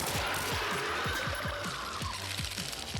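Rapid regular gunfire in Resident Evil 2, about a dozen sharp shots in steady rhythm over a noisy game backdrop; whether these are Magnum rounds stays uncertain.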